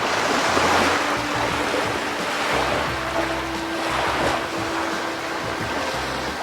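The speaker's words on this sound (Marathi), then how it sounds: "या किनाऱ्यावरच्या शुभ्र लाटा तुम्हाला निखळ आनंद देतात" White surf rolls onto Karde beach in Dapoli, a steady, loud wash of breaking sea waves with swelling surges and no talking.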